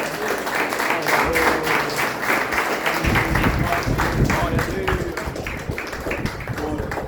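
A church congregation applauding during a Portuguese-language service, dense sustained clapping from many hands throughout, with a voice speaking over it at times.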